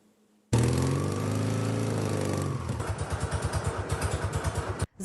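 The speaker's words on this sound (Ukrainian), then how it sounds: "Залізний звук їхніх двигунів щось особливе" A motorcycle engine fires up loudly nearby, revs briefly, then settles into a rapid, chugging idle before cutting off abruptly.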